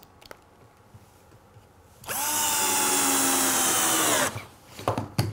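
A power drill drives screws through a 2x1 batten into pine and plywood at a woodworking bench: one steady, loud whirring run of about two seconds, with quiet handling noise before and after and no talk.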